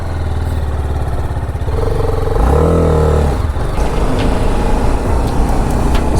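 Motorcycle being ridden with the helmet visor open, giving a loud low engine drone and rushing wind. A brief rising rev peaks midway before it settles back to a steady ride noise.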